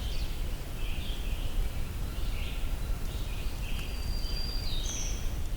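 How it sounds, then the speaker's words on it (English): A black-throated green warbler sings from a distance, a series of faint, high, buzzy phrases repeating over steady broadband outdoor noise. "Black-throated green warbler."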